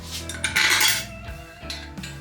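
Metal bolts clink and rattle as they are set into the case halves of a motorcycle engine during a rebuild, several sharp close taps and jingles with short pauses between them.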